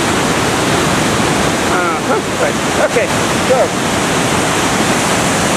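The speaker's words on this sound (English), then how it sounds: "And here's the river itself." The Congburn River in flood at Chester-le-Street rushes over a damaged waterfall, a loud continuous roar of churning water filling the whole stretch, with a voice speaking briefly over it.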